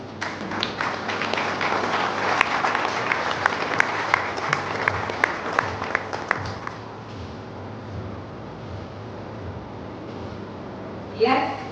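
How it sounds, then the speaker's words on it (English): An audience at a governance initiative launch event applauds, dense clapping holding steady for about seven seconds before tapering into quieter room noise, with a brief louder burst at the very end. "I hope your hands will be ready to give a round of applause."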